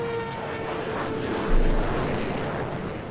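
A jet aircraft roars by as a steady wash of broadband noise, swelling briefly with a deeper rumble midway and then holding on, with no talk over it.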